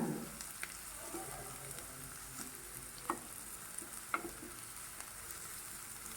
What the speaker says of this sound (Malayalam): എണ്ണ ചൂടായ ശേഷം ഇഞ്ചിയും വെളുത്തുള്ളിയും പച്ചമുളക് അരിഞ്ഞത് ഇട്ട് കൊടുക്കുന്നുണ്ട്